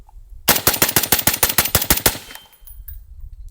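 Suppressed FN SCAR 16S SBR rifle firing a rapid burst of about twelve loud, closely spaced shots with a ringing metallic ching, then stopping abruptly into quiet.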